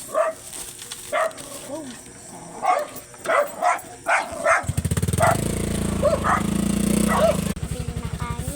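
Dogs bark and yip in short repeated bursts nearby, with a whimper and a brief spoken exclamation, then a loud buzzing motor drone joins partway through.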